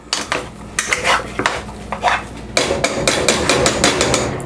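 Metal masher pounding food in a pot, a run of sharp clattering knocks and scrapes in uneven rhythm that grows denser and steadier toward the end, close and fairly loud.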